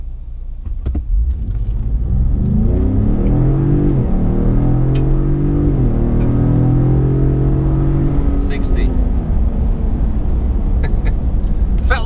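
A Ford Raptor pickup launches hard with traction control off, its engine roaring loud and close as the pitch climbs through rising gear sweeps over about eight seconds, then holds steady near the end.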